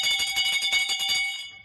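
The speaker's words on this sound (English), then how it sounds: "now ring the bell for Mandela" A bright bell or electric ringer sounds loudly and continuously for over a second with a rapid rattling pulse, then cuts off abruptly.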